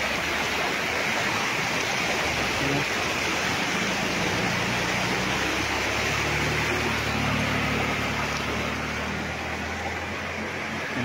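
A clear, cold river flows past a farm lot in Real, Quezon, a dense, steady rushing wash of water heard close and loud throughout, with no voices.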